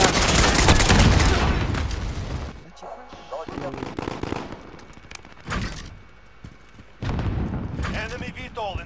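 Incoming gunfire and heavy explosions in Call of Duty: Modern Warfare multiplayer, loud booming blasts and rattling shots in clustered bursts separated by quieter gaps, with voices mixed in.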